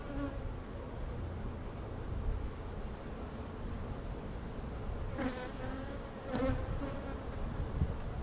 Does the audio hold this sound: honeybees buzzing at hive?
yes